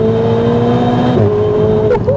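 A Ferrari 488 with its turbocharged engine drones loudly and steadily up close, a sustained tonal hum that shifts pitch slightly midway before a brief change near the end.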